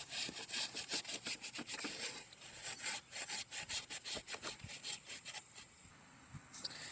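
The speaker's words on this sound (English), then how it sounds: "Some medium grit Scotch-Brite. And I'm going over the gasket surface with it." Medium-grit Scotch-Brite pad scrubbed back and forth over the water pump gasket surface of a 2010 Toyota Prius, a quick rhythmic rasping of strokes, close up and alone, easing off near the end.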